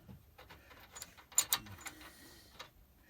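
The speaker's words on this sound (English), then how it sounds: "So now what we do is we put this wheel nut on" A wheel nut being fitted onto a trailer axle hub with Dexter 8-inch brakes gives faint, sparse metallic ticks and clicks, with a couple of sharper clinks standing out in a quiet setting.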